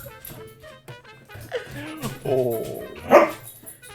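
An excited dog barks and whimpers in short yips and whines close by, while a person speaks briefly over it.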